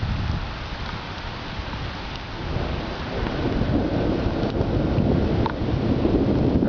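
Thunder from cloud-to-ground lightning rolls through a west-northwest thunderstorm, a continuous low rumble swelling louder in the second half over steady rain and gusty wind noise on the microphone.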